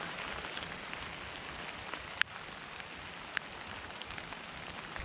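Rain drips steadily onto a bushcraft shelter in the woods, a soft continuous patter with a couple of sharper, louder droplet hits standing out, no voices.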